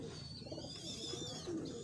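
Pigeons cooing on a rooftop in Faisalabad, soft repeated low coos mixed with faint chirps against steady outdoor background noise, moderately quiet and a little distant.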